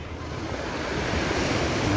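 Waves wash continuously onto a beach at a naval air base campsite, with a broad, steady roar of surf and some wind noise. No voices are heard.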